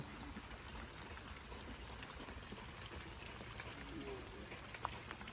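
Water rushing and trickling steadily after very heavy rain at a rural garden home, a continuous faint wash of flow with occasional brief talk over it.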